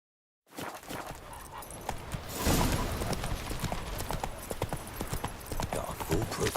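Hooves of the horse Roach in The Witcher 3: Next Gen clatter in a fast, steady galloping clip-clop, close and continuous, with game ambience and occasional chimes underneath.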